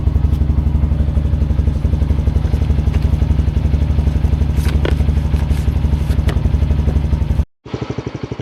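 Honda CT125 motorcycle idling and pulling away, a steady close putter with rattling clatter, briefly cutting out near the end.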